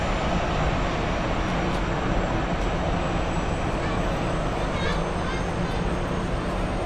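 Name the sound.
Swiss Airbus A321 airliner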